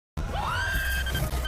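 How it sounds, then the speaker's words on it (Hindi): A witch's loud scream plays as a story sound effect: a single shrill, rising and then sustained wail that starts abruptly after a brief silence and fills the short moment on its own. "वो जोर से चिल्लाती है"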